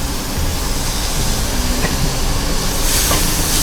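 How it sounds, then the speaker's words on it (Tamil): A loud, continuous sizzling hiss of onions and tomatoes frying in a hot pan for a dhaniya paneer dish, steady throughout with no speech. "இது சூப்பராக அது ஃப்ரை ஆகிட்டு இருக்குது."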